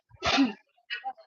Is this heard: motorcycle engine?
no